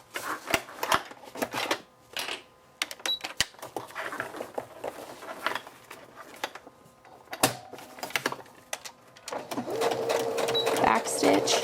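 A sewing machine stitches a Happy Hippos Flex Fit cloth diaper along its elastic edges in close, bursting runs with short pauses, and the whirring grows steadier and more continuous near the end.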